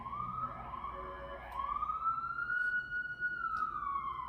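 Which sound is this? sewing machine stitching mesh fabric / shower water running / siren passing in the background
siren passing in the background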